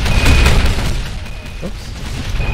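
Grenade blasts in a boss battle from the Shadow Complex video game, heavy booming bursts with low rumble that hit near the start and keep rolling beneath constant game noise.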